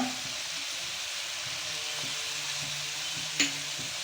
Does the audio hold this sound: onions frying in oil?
yes